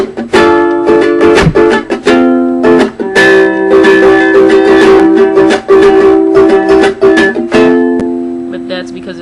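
Close, loud strummed guitar chords from the opening of a song, played in short bursts with a brief break partway through before steady strumming resumes and rings down.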